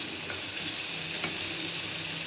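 Tomatoes sizzle steadily in a fried spice paste for a Bengali hilsa fish curry, a close, continuous frying hiss with faint stirring scrapes and no talking.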